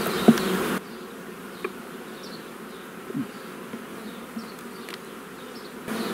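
Honey bees buzz around an opened hive during a March inspection, with a steady soft hum and occasional louder individual buzzes passing close, after a brief noisy thump at the start.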